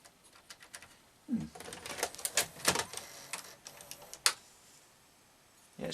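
The mechanism of a faulty Panasonic S-VHS deck strains to drive the tape reels, giving off irregular mechanical clicks, ticks and whirring bursts that are close but fairly quiet.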